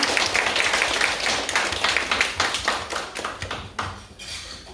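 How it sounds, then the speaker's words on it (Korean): A church congregation applauds during a harvest thanksgiving Sunday service, with dense, rapid clapping that is loud at first and then thins into scattered claps. "박수 한번 주세요."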